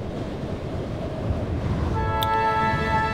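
A wide-gauge steam train in the video game Around the World in 80 Days rumbles steadily, then a sustained whistle or horn tone rises over the chugging noise and holds to the end.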